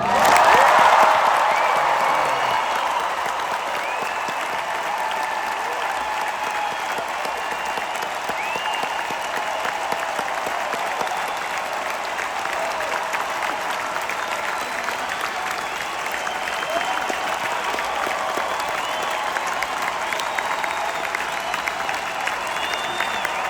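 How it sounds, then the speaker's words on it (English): Sustained concert audience applause in Columbus, Ohio fills the room, loud at first and then settling into steady clapping that continues throughout. "Let's hear it for John"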